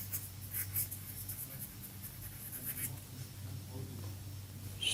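Pen scratching across paper while a GCSE maths solution about a square-based pyramid is written out, a faint, steady scraping under a low electrical hum with no talk.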